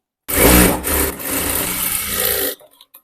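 An electric sewing machine stitching along a half-inch folded fabric edge for a blouse, a fast, steady whirring run of close stitching lasting about two seconds, then stopping abruptly with a few faint clicks.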